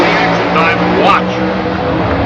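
An Oldsmobile pro stock drag race car pulls away down the strip at the 1994 Southern Nationals, its loud steady engine roar carrying over continuous commentary and crowd noise.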